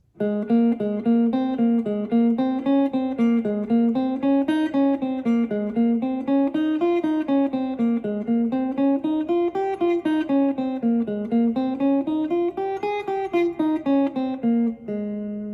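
A plucked guitar runs a steady stepwise three-string major scale up and down, each note picked evenly in a quick, continuous rhythm, close and clear with no talking.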